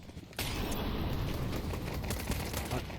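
USP and Glock pistol fire in a Counter-Strike match, a dense, continuous volley of sharp, overlapping shots that starts abruptly and stays loud, with several players firing at once.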